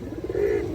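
A pair of Indian high flyer pigeons gives a single short, low coo, close and brief.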